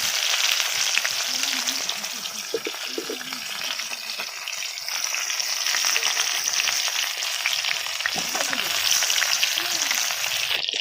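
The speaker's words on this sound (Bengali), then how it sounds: "এঁচড় আমার ভাজা হয়ে গিয়েছে" Marinated raw jackfruit pieces, rubbed with salt and turmeric, frying in oil with a steady, dense sizzle throughout, punctuated by a few scraping stirs near the pan.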